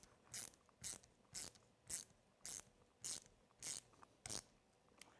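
Socket ratchet tightening fasteners while assembling wheels onto a vehicle chassis, eight evenly spaced clicking strokes in a steady rhythm, close but quiet with no talk.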